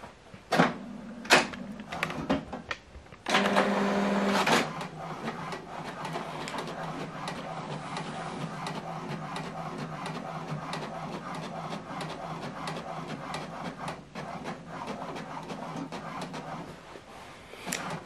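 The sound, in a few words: HP Deskjet All in One printer printing document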